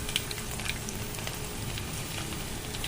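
Garlic crackles in hot oil with cumin while tempering for a Maharashtrian amti, a steady dense sizzle with fine pops throughout, close and fairly quiet.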